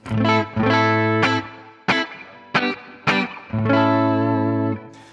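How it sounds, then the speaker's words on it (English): Clean electric guitar chords with spring reverb from a Fractal Axe-FX preset, strummed a handful of times with short gaps, each ringing out brightly before the next hit. "This is just a regular clean tone."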